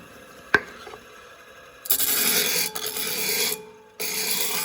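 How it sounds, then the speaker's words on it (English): Hand sanding of a hand mirror: a sharp tap, then two sustained, fairly close rasping passes of abrasive scrubbing, separated by a short pause. "I'm just gonna flip this and blindly sand this and transition it into here."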